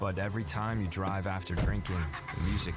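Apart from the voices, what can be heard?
None of the usual background noises is heard.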